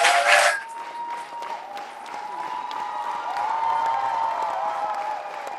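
Commencement audience applause for a graduate, a soft, sustained clapping that follows a brief loud burst at the start and carries on at moderate level.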